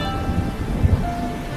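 Heavy rain falls on a cartoon jungle in a steady dense wash, with low rumbling swells like distant thunder, loud and continuous with no talk.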